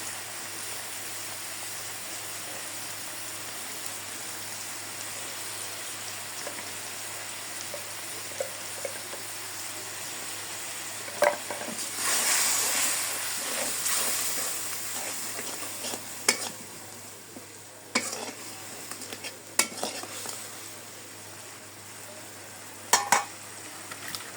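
Turmeric and chili powder fry in a hot pan while being stirred, giving a steady low sizzle broken by scattered scraping strokes and light clinks, with no talking.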